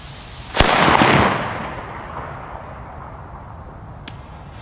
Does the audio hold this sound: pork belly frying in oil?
no